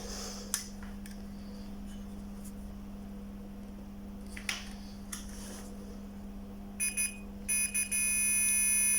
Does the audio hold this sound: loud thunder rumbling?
no